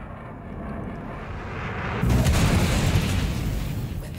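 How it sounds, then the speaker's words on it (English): Size 3 missiles strike the rear of a Buccaneer ship in a space combat game, a continuous rumbling roar that swells abruptly into a louder, broader boom and holds steady to the end. "And two size 3 missiles aimed at the rear of the Buccaneer."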